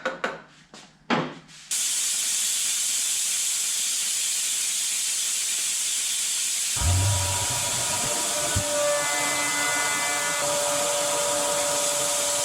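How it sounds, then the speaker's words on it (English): A vacuum brake bleeder working on Harley-Davidson VRSC brakes gives a steady, loud hiss after a few opening clicks and handling knocks, with a tonal whine joining partway through. "I'm going to use vacuum brake bleeder for that"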